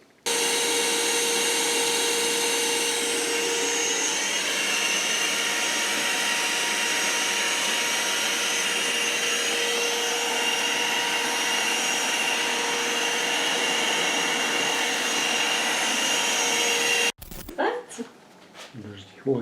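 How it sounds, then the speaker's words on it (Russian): A household vacuum cleaner runs at a country house, a loud steady whine with a constant drone that holds evenly, then cuts off abruptly near the end, followed by brief clattering handling noises. "Так, надо будет уже убирать все, пылесосить."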